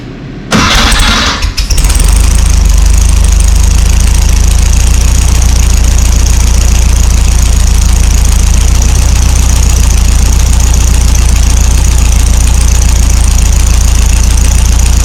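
1958 VW Beetle engine, with some engine tins and the engine gasket still missing, cranks briefly, catches and then settles into a loud, steady idle close by for the rest of the stretch.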